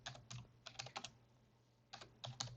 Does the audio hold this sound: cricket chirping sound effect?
no